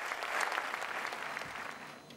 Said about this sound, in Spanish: todos en pie para recordar con un aplauso a los damnificados por el volcán de La Palma